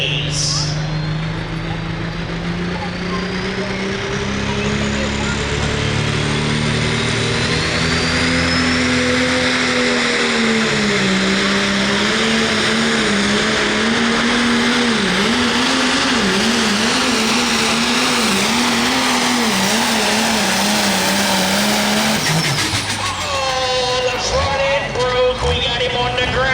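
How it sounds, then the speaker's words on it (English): A Case International MX 270 diesel tractor revs loud and close at a truck and tractor pull, its engine note rising and wavering steadily for over twenty seconds before dropping off near the end, with crowd and announcer noise underneath. "He's driving a Case International MX 270. It's a diesel."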